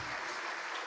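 Faint, distant audience applause for a panel at a conversation event on the Colombian economy comes as a short, even hiss of many hands clapping.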